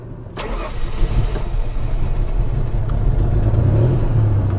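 An old truck engine cranks with a brief click and catches, settling into a low, rough rumbling idle that grows slightly louder.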